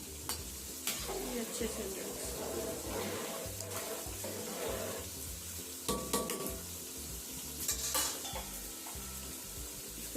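Two kilos of rice go into a sizzling pot of chicken biryani masala and get stirred, with steady frying hiss, scraping and clanks of the spoon against the pot, and someone speaking briefly.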